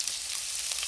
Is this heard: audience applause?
no